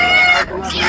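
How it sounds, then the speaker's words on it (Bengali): Chickens clucking and calling at a busy village livestock market, close and fairly loud, with crowd chatter around them. "এদিকে হাঁসগুলা, এদিকে মুরগি"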